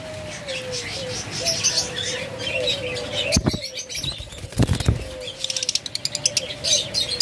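Yellow lovebirds in a cage, chirping steadily close by with bursts of wing flapping and fluttering, plus a faint cooing note and light rattling.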